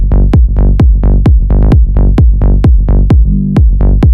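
A minimal bass track playing loud and dense, with a punchy kick thumping about twice a second under a sustained synth bass and drum layer, steady and driving without any voices.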